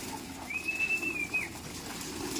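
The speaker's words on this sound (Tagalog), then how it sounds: "Solid yung mga ibon dito, dami, oh." Pigeons in a loft give faint calls over a low background murmur, with one thin, clear whistle-like call held for about a second in the middle.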